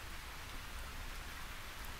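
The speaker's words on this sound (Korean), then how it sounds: "비가 내리고 있다." Light rain falling steadily on a city street near a subway station, a faint, even hiss of drops with no voices.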